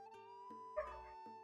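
A dog barks in a video game, Legend of Zelda: Tears of the Kingdom, with one brief bark standing out over a steady tonal music bed and soft game ambience.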